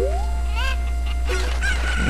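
A chicken clucks and crows in bursts in the video game The Legend of Zelda: Ocarina of Time, over a constant low hum, loud and close, with no talking.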